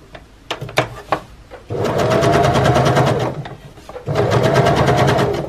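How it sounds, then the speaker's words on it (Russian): Sewing machine running in two sustained bursts, stitching a facing seam onto a pocket lining with white thread, preceded by a few short clicks and taps; close and steady, with no talk. "Мы настрачиваем шов обтачивания на мешковинку."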